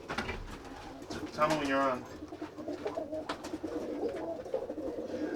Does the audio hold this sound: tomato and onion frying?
no